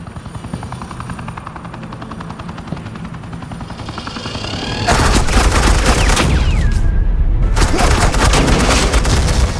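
Suppressing gunfire in the Batman: The Enemy Within final battle, a loud sustained burst of rapid automatic shots that erupts midway over a helicopter-like rotor drone, with a brief break before the firing resumes.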